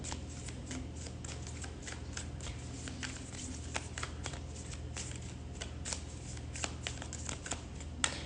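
Oracle cards being shuffled by hand in a spiritual reading, a continuous dense riffle of papery flicks and snaps, close and steady throughout with no talking.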